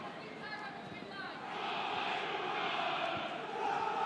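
Leuven stadium crowd at a women's football match, a steady distant roar and murmur of cheering that swells slightly, with commentary talk over it.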